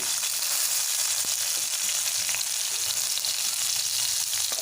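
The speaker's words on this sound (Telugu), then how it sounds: "వేసి మంచిగా కొంచెం కలర్ వచ్చే వరకు అయితే వేయించుకోవాలి ఆయిల్లో" Green chilies, garlic and onion fry in oil for a tomato curry, producing a dense, even sizzle with light stirring scrapes, close and continuous, with no one speaking.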